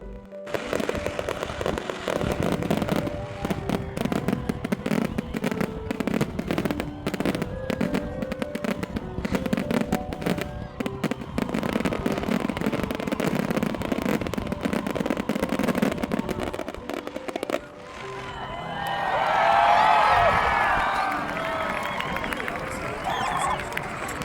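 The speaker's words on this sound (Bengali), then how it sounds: "চোখ ধাঁধানো সব আতশবাজি এত সুন্দর" Fireworks bursting continuously at a US Independence Day celebration by the sea, dense crackling and booming explosions with crowd murmur and a voice talking near the end.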